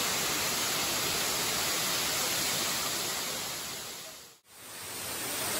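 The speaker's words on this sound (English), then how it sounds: "That's a waterfall right there." A constant roaring rush of a waterfall on Koh Samui, loud and steady, broken by one brief dip before it resumes.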